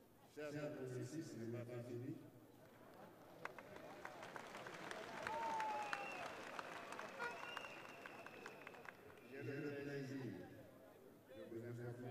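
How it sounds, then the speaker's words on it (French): A large crowd applauding at a political party congress in a dense, sustained wash of clapping, with a voice speaking briefly before and after. "je vous demande d'applaudir encore une fois."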